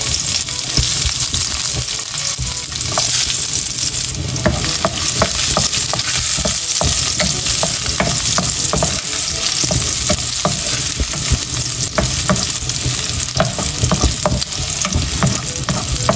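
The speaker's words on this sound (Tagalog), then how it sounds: "Ako pa ay magigisa na po ng rekado." Garlic, onion and other aromatics sizzle loudly in a hot pan, with a constant crackling fry and frequent stirring scrapes throughout, and no voices.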